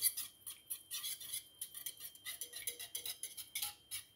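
A spoon stirs a fish, shrimp and scallop starter mixture in a dish, making quick, rhythmic scraping clinks that repeat steadily and close by, with no talking.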